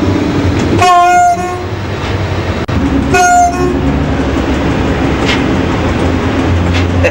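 A loud train horn sounds twice in long blasts over the heavy rumble of a passing train, with clattering wheels continuing afterward.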